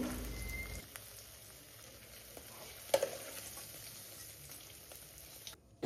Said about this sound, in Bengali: তো পনিরটাকেও আমি হালকা ভাজবো, খুব একটা ভেজে নেব না